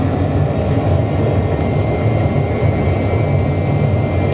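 Steady, loud roar of Boeing 737 jet engines at takeoff thrust inside a flight simulator cockpit, a continuous dense rumble with no pauses.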